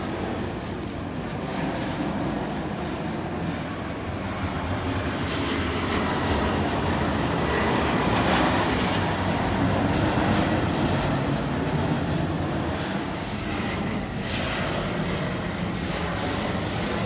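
Aircraft engines roar steadily and loudly at Jakarta airport during plane spotting, awaiting a Garuda Indonesia Airbus A330-900neo; a continuous broad jet rumble fills the whole stretch with no speech.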